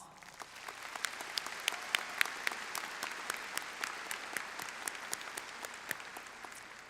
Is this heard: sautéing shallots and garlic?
no